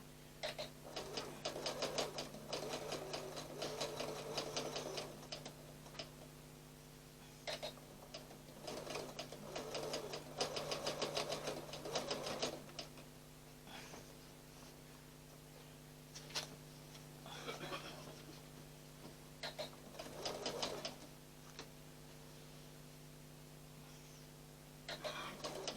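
A sewing machine topstitches fabric along a seam line, running in rapid rattling bursts that stop and restart several times, with a person talking between and over the stitching.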